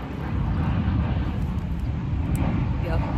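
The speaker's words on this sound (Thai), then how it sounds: "เดี๋ยวเสียงเครื่องบินมา" An airplane passes overhead near an airport, a continuous broad, steady roar throughout, with a person speaking over it.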